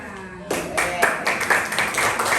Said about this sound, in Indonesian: Biar semangat lagi, tepuk tangan kelompok